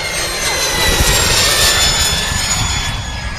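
A turbine engine on a Balsa USA Enforcer model jet roars loud and close, a steady high-pitched whine over a broad rushing jet blast that holds throughout.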